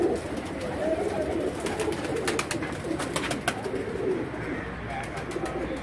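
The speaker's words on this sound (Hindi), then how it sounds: "ये नीचे इधर ये ब्रीडर कबूतर है" Breeder pigeons on a newly built rooftop loft coo continuously in low, throaty murmurs, several birds overlapping, with faint wing flutters and occasional clicks in the background.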